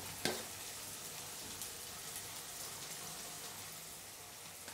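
Onion and garlic frying in a pan give a soft continuous sizzle, fairly faint and even, with one small crackle near the start.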